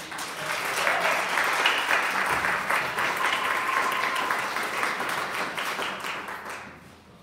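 Applause from an audience at a suicide prevention day event at a state Capitol, a dense sustained wave of clapping lasting several seconds before tapering off, no talking.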